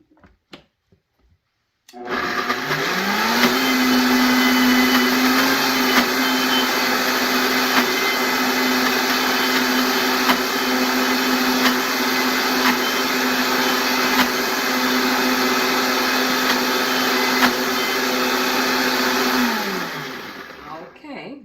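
Food processor pulsing broccoli burrito filling, a steady whirring motor hum that spins up, runs loud and continuous for about eighteen seconds, then winds down.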